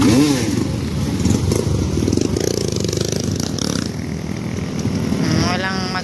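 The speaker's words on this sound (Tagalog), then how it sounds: "Pinapaba na po niya ang motor." A trail motorcycle on the Mt. Pinatubo trail runs loudly up close, its engine droning steadily with rising and falling revs and some rattling, while a voice talks over it.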